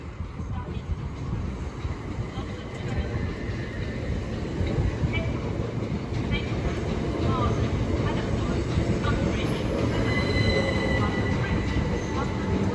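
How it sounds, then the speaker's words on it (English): A Southeastern Class 375 electric train runs through Ashford International station, a steady rolling rumble with wheel squeal and rail clatter that builds and stays loud. "The 1332 South Eastern service from Dover Priory to London Charing Cross. 375921."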